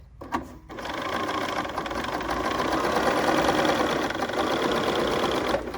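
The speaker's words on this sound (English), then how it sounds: "with our 6mm long stitch, I'm going to simply stitch from here to the notch I made" A Bernina sewing machine running a long 6 mm basting stitch along a centered zipper seam, a steady close mechanical whir and rapid needle chatter that starts after a brief click and runs continuously without talk.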